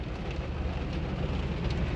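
Heavy rain pours steadily, a dense hiss of drops drumming on surfaces, constant and close with no voices.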